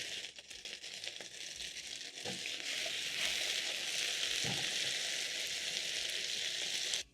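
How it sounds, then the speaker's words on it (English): Potatoes sizzle steadily as they shallow fry in hot oil close by, with a few soft scraping clicks early on before the frying settles into an even hiss. "As you're shallow frying your potatoes"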